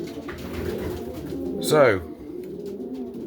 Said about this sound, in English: I'll go into the loft and show you what we've been doing with the cockbirds.